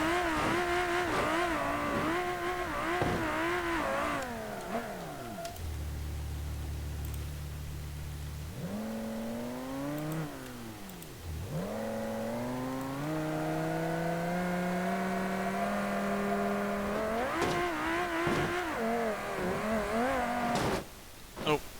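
A Civetta Scintilla GTx sports car engine in BeamNG.drive revs up and down, its pitch sweeping and dipping, then climbing again through repeated throttle bursts.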